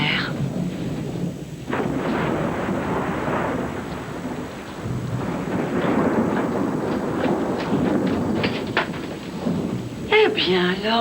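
Thunder rumbles over steady heavy rain during a rainstorm in a 1994 French film, with voices talking in French throughout and a brief higher cry near the end.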